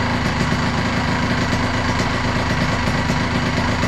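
An Aprilia RS 125 two-stroke motorcycle engine runs on a dyno, giving a steady, dense and loud buzzing drone that stays close and constant with no talk over it.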